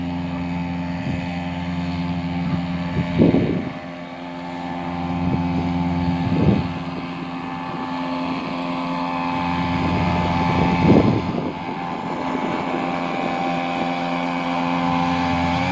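A small Hangkai 3.5 hp outboard motor drives a boat along the Oka River in the Irkutsk region, a steady close droning whine running throughout with gusts of wind buffeting the microphone.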